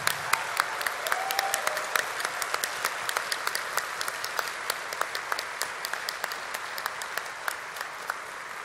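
Guests at the CSPC 2018 gala dinner clap in a steady round of applause. Sharp individual claps stand out above a softer wash, the sound is moderately loud, and it carries on evenly for several seconds.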